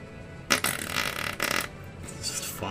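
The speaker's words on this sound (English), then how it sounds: "you make some really good, loud farts" Loud, wet armpit fart noises made by hand, several broadband bursts in quick succession with a short pause between groups, close and alone.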